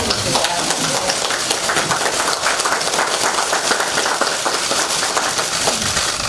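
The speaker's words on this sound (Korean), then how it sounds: "저희가 축하와 다짐의 박수를 한번 같이 하면 어떨까 이렇게 생각합니다" Applause at a party leadership meeting as the audience claps together, dense sustained clapping filling the room at a steady level from start to finish.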